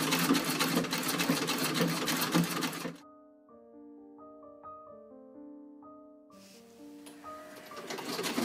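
A sewing machine hems the back and sleeves of a garment, its rapid, steady mechanical rattle running loudly at first, cutting out while soft music plays, then starting up again.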